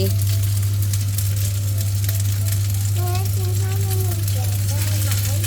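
Holy basil stir-fry (pad kaphrao) sizzling steadily in a hot pan, a loud continuous crackle with a low steady hum underneath and someone talking over it.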